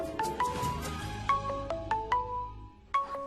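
A mobile phone ringtone plays alone indoors, a bright melodic sequence of short repeating tones in a steady rhythm, clear and fairly close.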